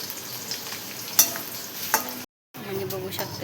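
Ayurvedic hair oil with curry leaves and aloe vera heating in a pan, soft sizzling and frying with a couple of stirring clinks and a brief dropout.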